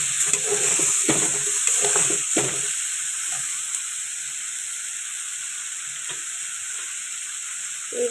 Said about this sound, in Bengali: এরপরে দিয়ে দিলাম টমেটো কুচি,